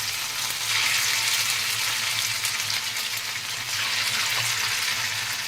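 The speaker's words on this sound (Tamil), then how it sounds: "அதுக்கு வேண்டி தான் ஆயிலில் போட்டு ஃப்ரை பண்ண போகிறோம்." Pieces of a Tamil evening snack frying in hot oil, crackling in a loud, continuous sizzle with bubbling that holds steady for several seconds.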